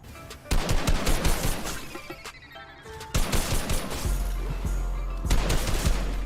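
Rapid bursts of assault rifle fire in Fortnite, aimed at 100 HP mobs, come in repeated volleys that are loud and close, with brief pauses and a continuous low rumble beneath.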